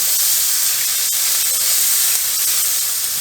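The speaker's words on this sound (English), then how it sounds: "we're sweating them just a little bit" Onions sweating in a hot pan for a beef tips in red wine sauce, giving off a loud, steady close-up sizzle and hiss with no talking.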